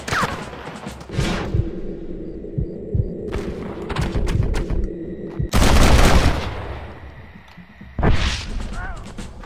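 Gunfire in the Western video game Red Dead Redemption: a few sharp shots amid loud game sound and music, one heavy burst standing out near the middle, with speech mixed in.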